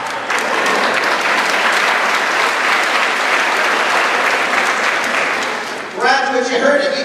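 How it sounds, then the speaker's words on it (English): A graduation crowd at the Marine Science Magnet High School breaks into loud, dense clapping that fills the space for about six seconds, then fades as a voice begins speaking over the last of it. "Yeah, you clap."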